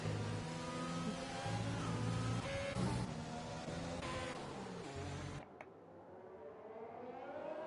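Racing car engines from the F1 2020 video game at the Hungary circuit roar and whine at high revs with harsh tyre screeching, loud and continuous, then abruptly cut to quieter engine drone.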